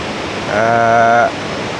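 Roar of Khone Phapheng waterfall on the Mekong River in southern Laos, a loud broad rushing wash of water that swells for under a second in the middle of the short clip, with a faint tonal hum over the noise.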